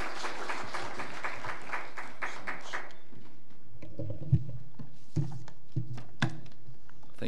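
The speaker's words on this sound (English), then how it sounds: "Let's give him a warm round of applause." At a diplomatic lecture, an audience gives the German ambassador a round of applause, a dense, fairly loud burst of many hands clapping that fades out after about three seconds, followed by scattered soft knocks and a quieter room.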